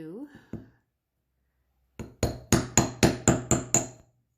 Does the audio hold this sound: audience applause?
no